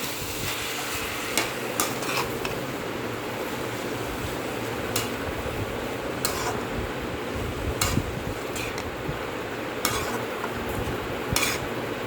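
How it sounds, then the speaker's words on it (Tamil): Chopped tomatoes and onions sautéing in a pan for butter paneer green peas masala give a steady, close sizzle, broken by sharp spoon scrapes against the pan every second or so. No one speaks. "தக்காளியை போட்டு நல்லா வதக்கி விட்டுக்கோங்க"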